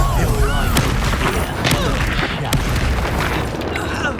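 Repeated magical blasts and bursts from Confringo and Expulso spells in the Hogwarts Legacy video game, dense booms and crackling impacts layered with game sound effects over several seconds.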